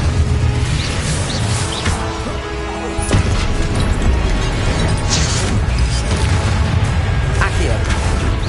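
Crashing, booming spell effects burst continuously in the Hogwarts video game, dense and loud with repeated impacts throughout, layered over constant game noise.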